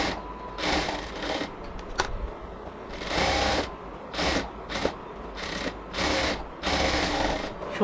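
A sewing machine stitches the shoulder seam of a designer semi frock in bursts of rapid whirring, separated by short pauses, close and fairly loud with no talking.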